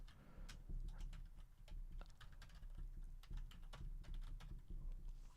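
Typing on a computer keyboard, close and quiet: a steady run of light clicking keystrokes in uneven bursts over a low background hum, no voices.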